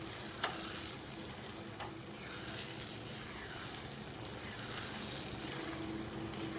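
White dal mash with black and white pepper is stirred in a cooking pot, a soft continuous sizzle under low scraping strokes of a spoon, with a few light clinks, fairly quiet and close.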